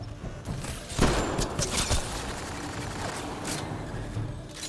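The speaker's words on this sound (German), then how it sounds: "Da habe ich natürlich alle Schüsse hervorragend vergeigt." Gunfire from the video game Mass Effect Andromeda, a dense run of shots and impacts with a couple of heavier thumps near the start, steady and fairly loud throughout with no voices.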